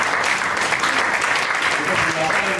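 An audience clapping at a business talk about investors, heard as a thick, continuous roar of applause that stays loud and even throughout, with some voices mixed in beneath it.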